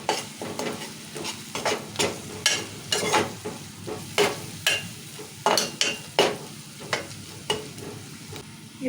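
Ginger garlic paste and turmeric being stirred in a hot pan, with a soft sizzle under rhythmic spoon scrapes and clinks coming roughly every half second, close-up, with no speech.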